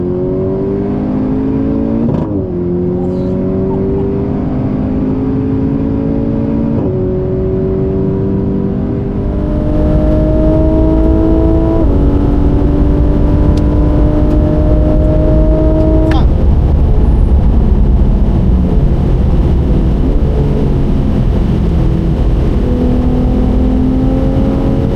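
A car accelerates hard through the gears on a racing circuit, engine note climbing and dropping at each shift, loud and close from inside the cabin, with an instructor coaching in French over it.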